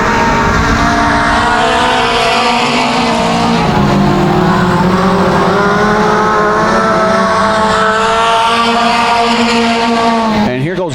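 Mini stock race cars roar around a dirt track at Genesee, a loud, continuous engine drone with rising and falling pitch as cars pass, under steady race commentary.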